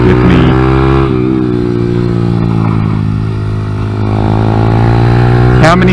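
A Honda Grom motorcycle rides a kart track, its small engine droning loud and close in a steady, harmonic tone that dips and rises with throttle changes, with no speech over it.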